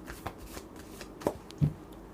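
Oracle cards are shuffled nearby, giving soft papery flicks and a couple of duller thumps as the deck is handled in a quiet room.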